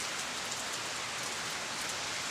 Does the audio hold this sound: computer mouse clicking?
no